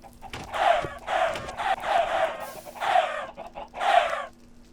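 Minecraft chickens cluck in a run of about six short clucks, clear and close, with faint game sounds behind them.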